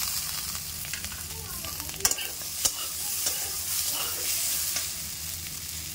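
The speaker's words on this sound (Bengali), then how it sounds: "ফুলকপি ভালো করে ভেজে নিয়েছি, এবার গাজর দিয়ে দেবো, এটাও ভালো করে ভেজে নেব।" Cauliflower, carrot and peas fry in a pan with a steady broadband sizzle, punctuated by a couple of sharp stirring clinks, close and continuous with no talking.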